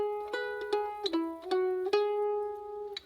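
Mandolin picks out a single measure of a jig in the key's B part, a short run of bright plucked notes with ringing harmonics, each attack distinct and decaying, played alone and close.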